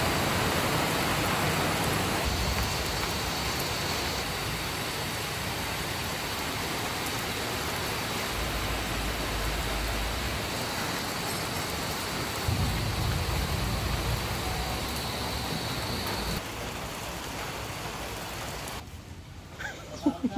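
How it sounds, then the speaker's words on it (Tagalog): Steady, dense rain falls outdoors, a broad, loud hiss that fills the whole stretch, with a faint rumble underneath at times. "Kaya nga siguro umulan."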